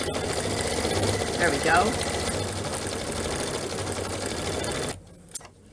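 A sewing machine runs continuously as it quilts a Kimberbell Paisley in Bloom belt bag, a loud, even mechanical whir that stops abruptly near the end, followed by a brief spoken remark.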